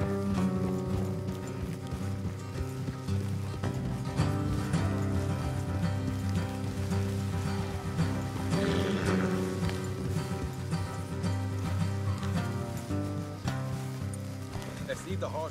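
Horses' hooves clip-clopping in Red Dead Redemption 2, a steady rhythmic trot under a continuous music bed and ambient game sound at night.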